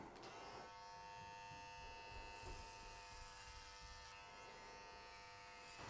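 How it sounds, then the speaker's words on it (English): Electric hair clipper with a number 3 guard passing through long hair during a basic men's haircut, a steady close buzzing hum with faint shifts as the blades move through the hair. "Just passing straight through with the clipper"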